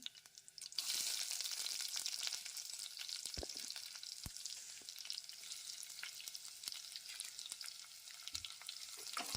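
Onions, green chillies and curry leaves fry in hot oil for a buttermilk rasam. A dense, hissing sizzle bursts up after a quiet start and holds steady, with a few faint knocks of the spoon.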